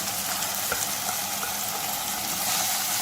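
Ginger garlic paste sizzling steadily in a hot pan with softened tomatoes, a continuous close frying hiss with faint stirring, no voices.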